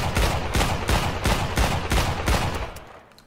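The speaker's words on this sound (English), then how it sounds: "As you can see, the shotgun fires really fast for a shotgun." A fast-firing shotgun in the Islands of Nyne battle royale game, with six or seven loud, booming blasts in quick, even succession that fade off at the end.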